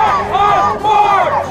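A crowd of Occupy Portland protesters shouts together in a loud, sustained chant with rising and falling voices close by.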